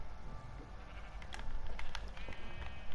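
Sheep bleat in Minecraft, the blocky survival video game. Several short, nasal bleats come through at moderate loudness over a steady game background, with no talk.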